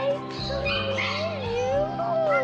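A young puppy whimpers in high, wavering cries that rise and fall continuously over a steady background of music or room sound, close and fairly loud.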